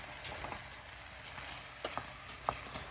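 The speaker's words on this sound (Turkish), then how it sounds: "Fasulyeleri karıştıralım." Steady sizzling in a pot with a few soft scraping clinks as boiled, drained dried beans are stirred, close and fairly quiet, no voices.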